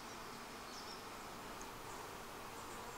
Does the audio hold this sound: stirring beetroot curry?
no